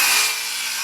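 Leftover hardwood being sawn into 16-inch sections for firewood at an off-grid cabin: a brief, steady rasping cut, close and moderately loud, with no talking.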